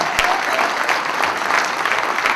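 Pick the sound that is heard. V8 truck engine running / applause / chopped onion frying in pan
applause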